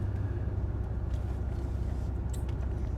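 A four-wheel-drive vehicle crawls off-road along a rough bush track, a constant low engine rumble and cabin drone with faint rattles, heard from inside and unbroken by speech.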